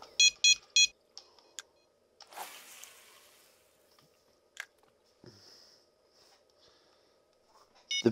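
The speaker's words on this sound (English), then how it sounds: "The beeping or bite alarms, which will indicate there's tension on the line" A carp fishing bite alarm gives a quick run of three bright electronic beeps, followed by scattered clicks, a rustle and faint tones in a quiet outdoor setting.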